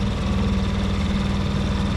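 A new boat motor runs steadily on a lake, a loud, close, continuous droning hum with a low throb and no voices.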